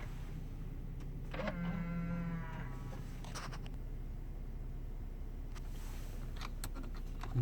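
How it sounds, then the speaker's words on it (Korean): Power side mirror motor on a first-generation Volvo S80 T6 whirs briefly as the mirror adjusts, a faint short electric hum over quiet cabin background, followed by a few small clicks. "사이드 미러 작동 한번 해보겠습니다."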